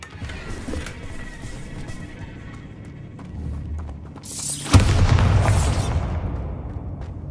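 A Bombarda spell explosion in Hogwarts Legacy erupts in a loud, broad boom that swells and rumbles for a couple of seconds after a quieter, busy game backdrop.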